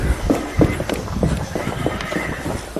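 A horse whinnies in a few rising, shaky bursts against a steady noisy background, with clops and thumps mixed in and no one talking.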